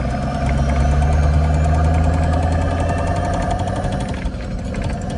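Mercedes 380SL roadster with a swapped turbo diesel OM603 engine revving under throttle, a loud, steady, knocking diesel drone that holds close and constant throughout.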